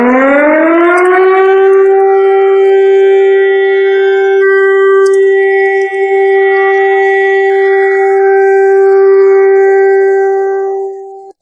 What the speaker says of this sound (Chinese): 这是防空解除警报。